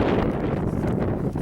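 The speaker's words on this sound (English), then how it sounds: "Kind of windy." Gusty outdoor wind batters an open microphone on a windy flying field, giving a dense low rumbling roar that fills the short stretch without pause or voices.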